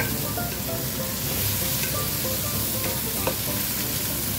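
A spoonful of garlic sizzles and fries in a pan for spaghetti noodles, a dense, loud, continuous crackle with light stirring scrapes, close up and without speech.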